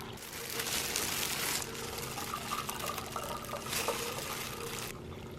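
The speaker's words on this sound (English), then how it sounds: "We use a cheesecloth to squeeze everything out." Homemade almond milk poured through a large cheesecloth, a steady close liquid pour and trickle with two brighter splashing surges, no talking.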